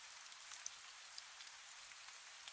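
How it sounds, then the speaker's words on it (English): Gentle rain patters steadily on a windowsill and cobblestones, soft and even, with scattered brighter drops against a quiet hiss. "You hear the rain begin again, its gentle patter on the windowsill and the cobbles beneath."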